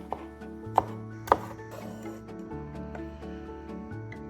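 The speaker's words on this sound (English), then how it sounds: "let's finally chop about 4 cloves of garlic." A couple of sharp knife chops through about four garlic cloves on a cutting board, two crisp hits close together over steady background music.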